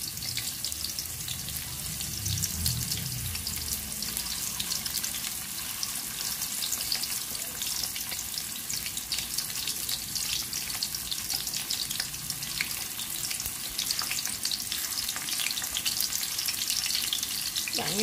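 Vegetarian chicken pieces fry in a pan with lemongrass and chili, a continuous crackling sizzle over low heat with occasional stirring scrapes, steady and close.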